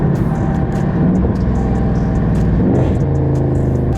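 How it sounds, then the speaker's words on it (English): Steady, throaty rumble of a Dodge Charger 392 Scat Pack engine and exhaust, continuous and close, with a low droning tone that holds throughout. "Still got that exhaust sound though."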